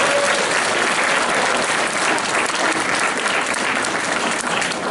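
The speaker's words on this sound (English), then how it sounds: "Can we get a round of applause for Miss Hanley for putting together this amazing play?" Dense, loud applause from a school audience after a grade 7 play, a steady wash of many hands clapping together with no pauses.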